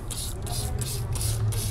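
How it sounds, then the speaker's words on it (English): A foam sprayer hisses in four or five rhythmic bursts onto a car wheel, close by, over a low mechanical hum. "So we can go ahead and spray directly onto the wheel"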